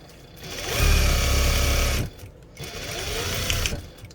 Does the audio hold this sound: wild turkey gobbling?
no